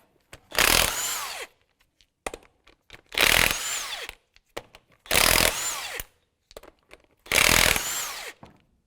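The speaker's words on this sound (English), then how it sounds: "That's a 19mm lug nut. So take the wheel off." 19mm lug nuts being removed from a 2002-2005 Ford Explorer wheel with a power impact tool, four loud close bursts of whirring and rattling about two seconds apart, separated by quiet gaps with small clicks.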